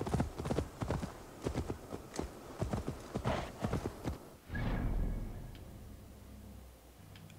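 Horse hooves clip-clopping while riding along a coast in Assassin's Creed Valhalla, a steady rhythmic run of close hoofbeats that gives way to a soft rushing swell and a fainter tail.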